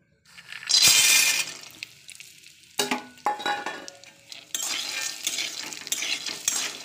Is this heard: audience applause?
no